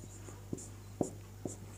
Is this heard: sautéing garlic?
no